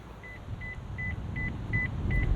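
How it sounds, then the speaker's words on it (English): Six short, soft electronic key-in-pocket reminder beeps from a 2023 Toyota Corolla Cross Hybrid XSE repeat at an even pace over a low rumbling background, fairly faint and close by. "the beeps letting me know that the key is in my pocket are not so loud"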